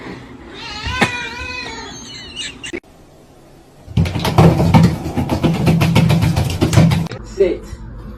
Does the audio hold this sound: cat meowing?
yes